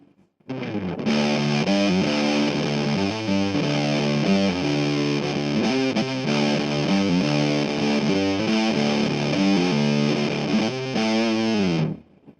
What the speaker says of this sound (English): This is just the fuzz on its own.